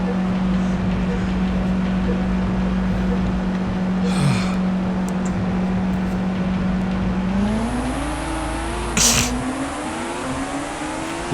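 Formula 1 race car in a racing video game at the Australian Grand Prix, a steady engine drone that rises in pitch as the car accelerates, with a few brief sharp bursts along the way.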